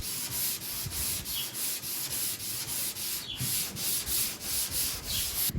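Close, steady back-and-forth scraping of a sanding block over hardened body filler on the roof of a 1972 El Camino, repeating in an even rhythm with no talking.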